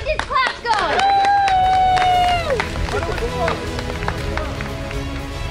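A burger-cooking contest audience claps and cheers. A loud whoop and shouting carry over quick rhythmic claps that fade into lighter crowd noise.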